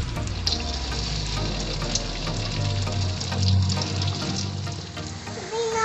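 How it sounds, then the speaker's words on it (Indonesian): Cireng, Indonesian tapioca snacks, frying in hot oil with a steady bubbling sizzle that runs close and fairly even the whole way through, with no talking over it. "Kita goreng."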